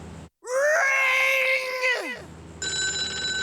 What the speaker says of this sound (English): That phone is gonna ring.